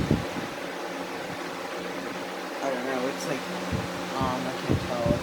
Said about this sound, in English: On high speed, it's moving the same amount, just about the same amount of air as the other blade.